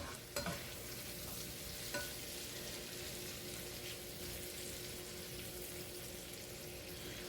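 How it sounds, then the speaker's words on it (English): Sausages fry in a pan on the stove, a faint, steady sizzle with a couple of brief clatters near the start and no talking. "My sausages are cooking"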